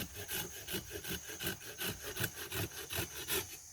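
A hand saw cuts through mango tree wood in quick, even back-and-forth strokes, a rhythmic rasping that continues steadily up close.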